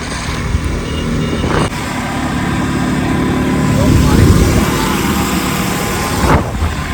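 KTM RC 200 motorcycle engine revving while riding between Jamui and Deoghar, a steady broadband engine drone with a swell of revs in the middle, close and continuous with wind.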